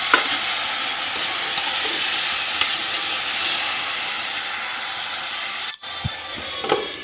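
Tomatoes fry in a pan with prepared masala, a loud, steady hiss and sizzle broken by a few stirring scrapes and one brief dropout.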